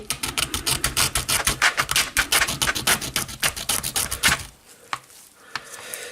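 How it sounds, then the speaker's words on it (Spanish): Material being cut for a homemade water-electrolysis voltameter: a fast, steady rasping saw-like stroke rhythm, close and loud for about four seconds, then it stops, leaving a few faint knocks. "Seguimos cortando por aquí."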